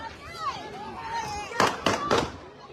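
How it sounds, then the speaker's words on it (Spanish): Gunshots from an attack that left two dead and two wounded crack out during a live circus show broadcast in Manta: three sharp, fairly close bangs in quick succession, breaking through a murmuring crowd and voices. "En el video se escucharon los disparos del ataque que dejó 2 muertos y 2 heridos anoche."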